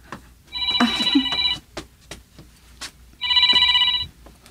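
A cellphone rings in two clear bursts separated by a short gap, loud and close in a quiet room with faint background clatter.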